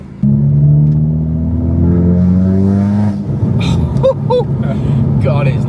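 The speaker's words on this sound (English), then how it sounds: "Sounds nice when you're revving it, but it's just that rasp." A straight-piped Volkswagen Scirocco 2.0 TDI diesel revving loud and close, its raspy exhaust tone climbing then easing back, with a voice talking partway through.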